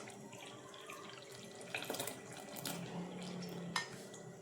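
Jaggery water is poured into a pot of half-cooked sago, a faint splashing trickle with a few soft metallic clinks of kitchen utensils.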